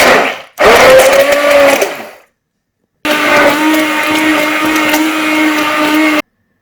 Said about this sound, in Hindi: अंडों की मैंने ब्लेंड करके झाग बना लिया है